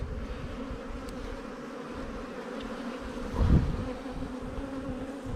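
Honey bees buzzing around an open hive during a beginner's swarm-prevention inspection, a dense steady drone close by with a brief louder bump partway through and no talking.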